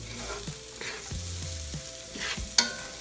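Carrots fry with a steady sizzle in a pan while being stirred, with a few soft utensil scrapes and one sharp clink near the end; no voices.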